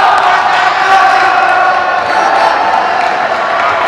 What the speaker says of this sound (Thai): วันนี้กองเชียร์นี่ดังลั่นไปหมดแล้วครับ